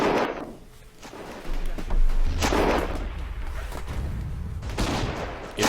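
Tank cannon in the WW1 game Battle of Empires 1914-1918 firing at an anti-tank gun through a building, heavy booming blasts with rumbling low-end tails, several bursts spread over a few seconds amid ongoing battle noise.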